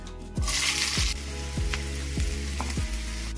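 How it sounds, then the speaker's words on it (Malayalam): Shallots drop into hot coconut oil with popping mustard seeds for a Kerala coconut chutney tempering, setting off a loud, close sizzle that flares up and holds steady, punctuated by several sharp spatters and crackles. "ഒന്ന് പൊട്ട് വരുമ്പോൾ അതിലേക്ക് ചെറിയ ഉള്ളി ഇട്ട് കൊടുക്കാം"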